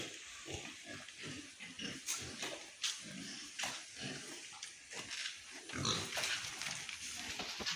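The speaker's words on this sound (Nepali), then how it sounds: "मासुको लागि चाहिँ यो फाल्टै तरिकाले पालिएको सुँगुर बुङ्गुर" Pigs raised for meat grunting and snorting close by on a farm in a steady, uneven series of rough, low grunts, with no one talking.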